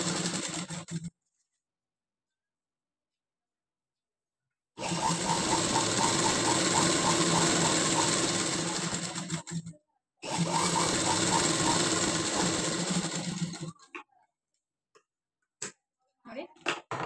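A sewing machine stitches along folded fabric in fast, steady runs of rapid needle clatter, close and loud, broken by a few silent pauses and ending with scattered clicks.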